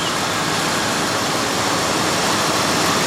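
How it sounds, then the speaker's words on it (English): Engine of a 1995 Ford Crown Victoria idling after restoration, a steady, even broadband rumble heard close and fairly loud, continuous with no variation and no voices. "That engine sounds nice and smooth and quiet."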